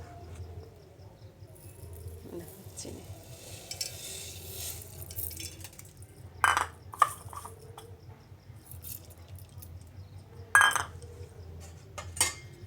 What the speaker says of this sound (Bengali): ভালো করে নেড়ে দেবো চিনিটা গলবে